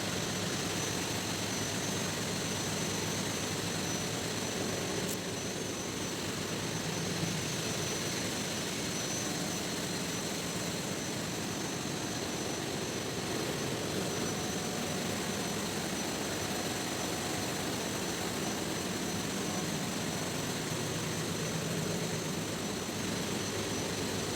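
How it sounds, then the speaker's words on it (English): A ship's auxiliary engine in the engine room: a steady, loud mechanical drone with a constant hum fills the space without pause, close by in an enclosed room. "This is our auxiliary engine."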